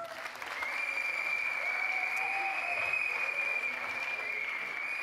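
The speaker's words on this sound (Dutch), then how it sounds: "Een groot applaus voor dit team." Crowd applause at a sports awards ceremony honoring youth champions, a sustained, even wash of clapping with a faint steady tone running beneath it.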